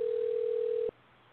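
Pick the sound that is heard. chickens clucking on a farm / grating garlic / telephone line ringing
telephone line ringing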